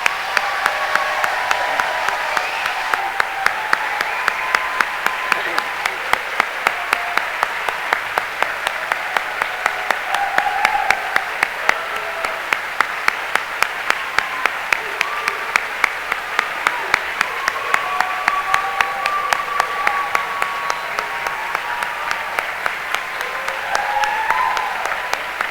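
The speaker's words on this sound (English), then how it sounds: "One more round of applause for all of them." An audience at a Baylor Law School summer graduation ceremony applauds the graduates in a long, steady, full round of clapping with scattered cheers and voices, loud and sustained throughout.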